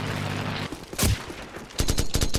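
Sniper rifle fire in a multiplayer video game match: a lone loud crack near the start, then a rapid burst of several sharp shots in quick succession toward the end, over low rumbling game ambience.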